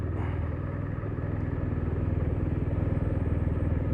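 A cold BMW R1250RS motorcycle engine idling, a steady low, even pulsing thrum close by, running alone without voices.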